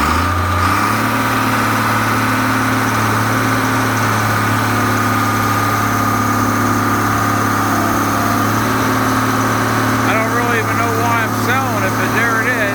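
Diesel engine of a Case 1080B excavator running loud and close, holding a steady heavy idle before rising into a sustained rev with a strong rumbling drone; a voice speaks briefly over it near the end.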